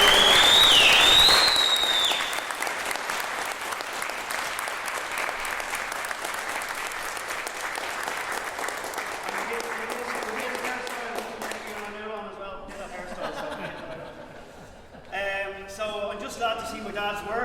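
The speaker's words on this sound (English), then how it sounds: "I think he deserves a round of applause" A crowd at an international society event in Strabane breaks into loud, dense applause with whistling, then the clapping thins and fades as music and voices take over.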